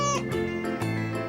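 A cat meows several times in quick succession, close and clear, with drawn-out tonal calls and no talking.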